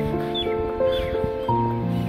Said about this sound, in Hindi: चिड़ियों को चहचहाना